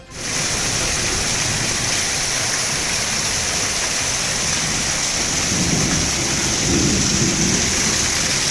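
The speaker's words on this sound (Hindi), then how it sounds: "गोरखपुर में गरज चमक के साथ बारिश जारी।" Heavy rain pours down during a thunderstorm in Gorakhpur, a loud, dense, unbroken roar of falling water with low rumbling underneath throughout.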